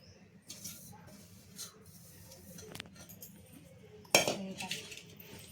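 Wheat flour is stirred in a bowl for fenugreek laddoos, with soft scraping and light metallic clinks of a utensil against the bowl, one sharper knock standing out, all fairly quiet.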